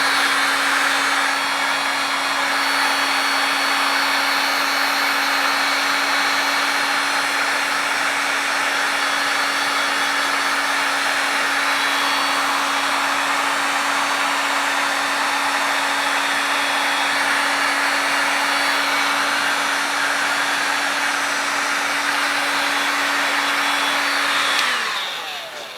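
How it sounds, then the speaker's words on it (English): A heat gun blows hot air in a steady, loud, close whooshing roar with a constant whine, running unbroken for nearly the whole stretch before cutting off at the end. "So, heat gun."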